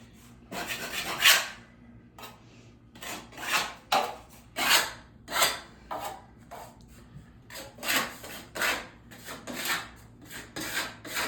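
Drywall mud being spread and the excess scraped off with a knife, heard as close, fairly quiet rasping strokes that come in an uneven series of a dozen or so sweeps with short pauses between them.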